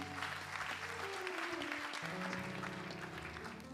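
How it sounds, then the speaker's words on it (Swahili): A church congregation applauding, dense sustained clapping close by with music playing underneath. "Shangilie Mungu kwa makofi mengi."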